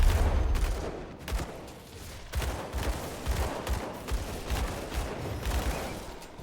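Rapid dual pistol gunfire in the action RPG Grim Dawn, firing in dense repeated bursts with heavy impacts and combat effects, loud and continuous throughout.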